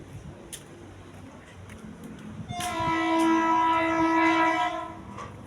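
A train horn blares loudly for a couple of seconds over rumbling rail noise, then fades as the train rolls by.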